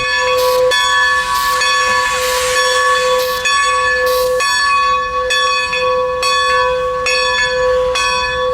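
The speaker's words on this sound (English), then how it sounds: "steam locomotive number 90 is being prepared for the busy day" Steam locomotive number 90 at the Strasburg Railroad gives off a loud, steady hiss, joined by a sustained ringing bell-like tone and repeated sharp bursts of escaping steam, close and without any talk.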